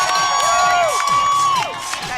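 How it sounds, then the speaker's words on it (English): A crowd at a Garaway high school football game, cheering and shouting in a loud, steady roar with whistle-like whoops rising above it. "Garaway crowd getting into it here"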